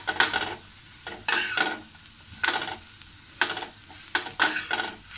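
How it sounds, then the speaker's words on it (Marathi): Dried coconut with onion, garlic and ginger for misal is stir-fried in a pan, with repeated scraping strokes of a spatula over a steady light sizzle, close and fairly loud. "सुकं खोबरं सुद्धा आपल्याला छान असं खरपूस रंगावर परतून घ्यायचं आहे."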